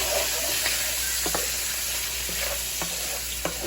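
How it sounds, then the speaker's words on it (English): Sausage fries in plenty of vegetable oil for Southern fried cabbage, giving a loud, constant sizzle with occasional crackles and pops throughout. "The sausage is starting to fire up nice and purdy"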